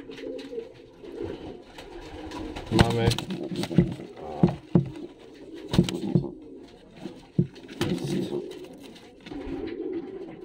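Pigeons in a loft coo in soft, rhythmic low calls close by, repeating throughout, with a person speaking briefly in Polish amid the cooing.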